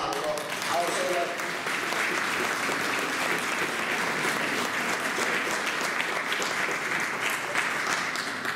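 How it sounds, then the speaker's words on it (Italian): A crowd applauding at a village living nativity event, steady dense clapping that holds evenly for several seconds, with some voices mixed in. "facciamo un applauso a Osserio"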